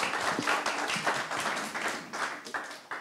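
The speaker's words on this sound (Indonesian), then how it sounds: "tepuk tangan buat mereka berdua" Audience clapping for two debaters at a public debate on Papua, a moderate, uneven burst of applause with pulsing surges over about three seconds.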